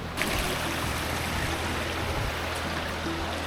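A mountain river runs shallow over stones at a crossing, giving a steady, close rushing and burbling of water that fills the whole stretch without pause.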